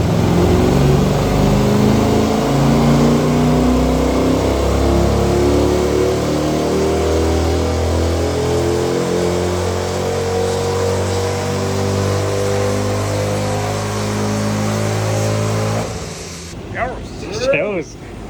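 A Mercedes E55 AMG engine drones loudly and steadily on a dynamometer during a pull, its harmonics climbing slowly as revs rise, then the run cuts off abruptly near the end.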